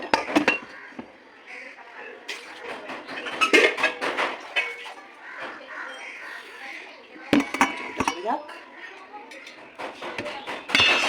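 A wok scrubbed during dishwashing, with close clattering metal clinks and scraping bursts of utensils against the pan, interrupted and irregular, while a person talks in the background.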